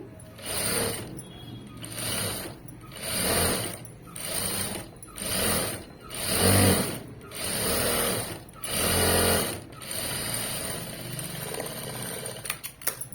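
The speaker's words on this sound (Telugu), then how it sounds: "మళ్ళీ ఒక టాప్ స్టిచ్ వేసేసుకోండి." A sewing machine top-stitches fabric in a blouse or dress with piping, running in repeated mechanical bursts of rapid whirring and ticking, stopping briefly between runs, close and steady, with no talking.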